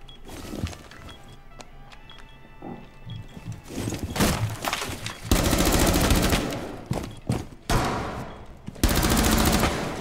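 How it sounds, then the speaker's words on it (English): Rapid bursts of gunfire from a Rainbow Six Siege match, loud and close, with sustained automatic volleys and sharp single cracks spread across the stretch and little talk over them. "That was a headshot."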